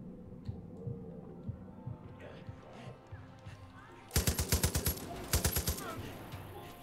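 Loud, rapid automatic gunfire erupts in two quick bursts in the Far Cry 5 video game, following quieter footsteps and ambient game sound.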